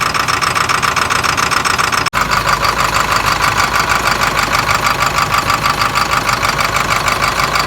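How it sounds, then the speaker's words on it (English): An International 7.3 diesel engine runs loud and close after its first cold start in eleven years of sitting, chugging in a steady rough rhythm with a clattery knock and one brief dropout partway through. "Running on all cylinders, but it's running."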